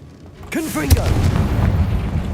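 A Confringo fire-blast spell explodes in Hogwarts Legacy, a booming blast with a rumbling tail right after a voice calls out the spell, close and loud.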